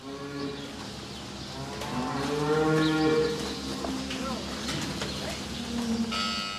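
Dairy cows in a large new cowshed give several drawn-out, overlapping moos close by, with a faint bell-like ringing and some chirping behind them.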